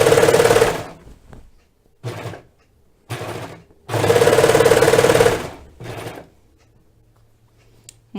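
A domestic sewing machine stitches a sweater seam around a tricky corner, running in several loud, steady bursts of rapid whirring with short pauses between them; no one talks.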